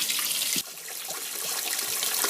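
Tap water pours steadily over turkey pieces in a container for a salt water brine, a close, continuous rushing splash that shifts slightly in tone as the level rises, with no talk.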